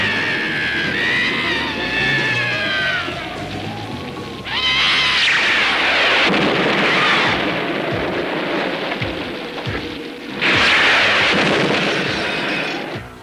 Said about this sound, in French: Et maintenant, il y a le tonnerre et les éclairs.